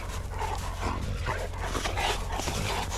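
A dog out in the snow whimpers and pants close by, with quick breathy huffs and thin whines over a steady outdoor rumble of wind or handling noise.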